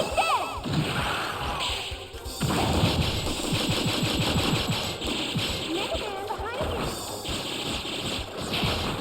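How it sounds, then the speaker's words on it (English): Rapid machine gun fire in the video game Mega Man Legends 2, dense rattling bursts with splashy impacts repeating across the stretch, under someone talking. "Oh, I can't run using the machine gun."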